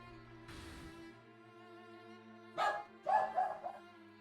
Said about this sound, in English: All the barks.